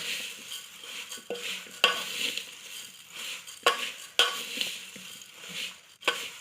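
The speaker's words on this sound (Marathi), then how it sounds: "चला आपण मिक्स करूया. हे असं थोडं थोडं हे केलं की मिक्स होते." A bowl of bhel, puffed rice snack tossed with chopped coriander, stirred by hand, giving a steady crisp rustling and scraping with periodic sharper clinks against the bowl, close and moderately loud, with no talking.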